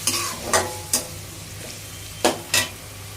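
Chicken pieces go into a pan of shrimp being stir-fried for seafood mixed fried rice, giving a soft steady sizzle broken by several sharp scraping stirs of a utensil against the pan.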